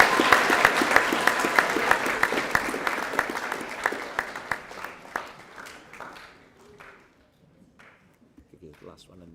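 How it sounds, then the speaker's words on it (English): An audience at a school co-curricular prize giving applauds hockey representatives, with dense clapping that gradually thins and fades over several seconds and ends in a few scattered claps. "Round of applause for our hockey representatives."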